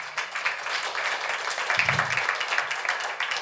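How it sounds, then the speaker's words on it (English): An audience at a livestreamed talk applauds, giving a steady wash of clapping that holds for a few seconds at moderate level. "an applaud to Anders"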